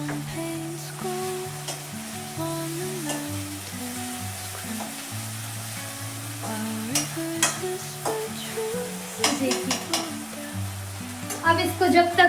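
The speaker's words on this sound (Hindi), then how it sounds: "इसमें से चिटपिटाने की आवाज आने लगी है," Ginger, garlic and chilli paste sizzles in a pan as it is stirred, a steady frying crackle under prominent background music, with sharper clinks and spatters near the end.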